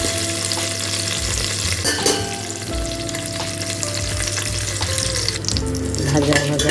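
Whole garam masala of cinnamon, clove, cardamom and bay leaf fries in hot ghee with a close, continuous sizzle, broken by the scrape and clatter of stirring in the pan.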